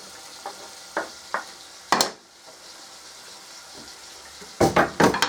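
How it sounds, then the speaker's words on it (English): Onions sautéing with bacon in a pan for cassoulet, a low steady sizzle broken by a few sharp scrapes and clatters of stirring, nearby and without speech. "onions just to saute them."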